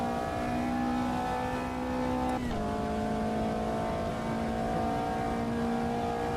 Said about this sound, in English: may have just clipped the rev limiter